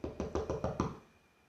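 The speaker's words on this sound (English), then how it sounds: "I heard a knock at my car window." Five quick knocks on a car window, evenly spaced and close, rap out in the quiet of a car parked at the roadside at night, then fade into silence.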